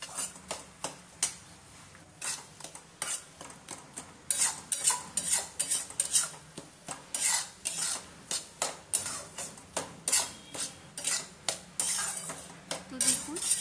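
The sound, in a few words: frying gram flour and semolina in a pan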